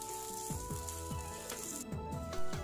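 Chili sauce is poured into a hot frying pan in a home kitchen while cooking tofu with meat, giving a steady close sizzle and fry crackle with soft liquid pops throughout.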